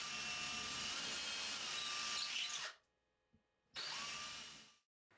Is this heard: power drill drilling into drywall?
yes